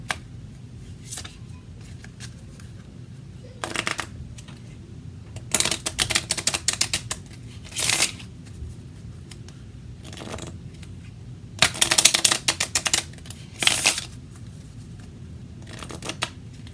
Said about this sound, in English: Let me give these a quick shuffle